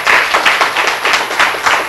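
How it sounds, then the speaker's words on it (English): An audience at a global health innovation poster session applauds in steady, dense clapping that continues at an even loudness throughout, with no talk over it. "Round of applause."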